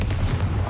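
Confringo blasting spell explosion in Hogwarts Legacy, a short, loud, heavy boom with a dense low-end thump and no talk.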